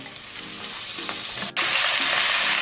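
Mutton frying in a pan with ginger garlic paste makes a loud, steady sizzle up close, broken only by a very brief dip before the crackle resumes at full strength.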